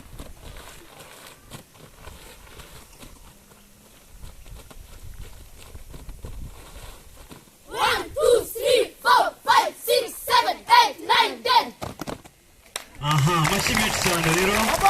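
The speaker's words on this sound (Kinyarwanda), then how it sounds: "Amashyi menshi cyane rero." A crowd bursts into loud, dense applause near the end of a marching drill display with called steps and turns, following rhythmic shouted chanting and voices.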